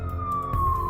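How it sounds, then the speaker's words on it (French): Police siren sound effect in a narrated French story, a brief single wailing tone gliding slowly downward, moderately loud over a low rumble, with no talking. "À cet instant, des sirènes retentirent."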